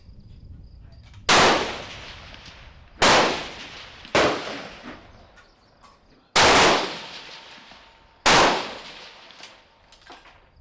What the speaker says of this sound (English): Okay, this is us shooting our sighters now.